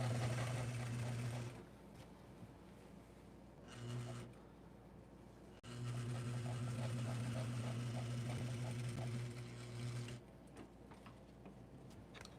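A sewing machine runs in bursts while stitching a dress seam that takes it in, its steady mechanical whir stopping and starting between pauses, close and alone with no talk.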